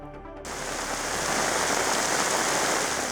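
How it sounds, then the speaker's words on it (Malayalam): Heavy monsoon rain falls in a steady, dense hiss that swells in after a brief quieter start and holds loud and continuous to the end, with no voices. "വടക്കൻ ജില്ലകളിലും ശക്തമായ മഴ തുടരുകയാണ്"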